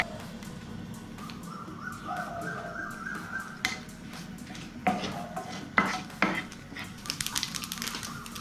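Mustard seeds and two dried red chillies frying in oil for coconut chutney crackle with scattered sharp pops and utensil clatter that grow busier toward the end, while a bird caws faintly in the background.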